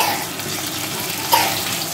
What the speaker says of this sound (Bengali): এবার মাছের মাথাটাকে দিয়ে এবার ভাজবো।